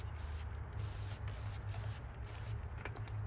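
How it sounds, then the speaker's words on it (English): A quick burst of polymer ceramic coating is sprayed onto a test panel, a steady broadband hiss with a low compressor hum underneath, close and continuous with slight pulses throughout. "we're just going to go ahead and do a quick spray on this panel"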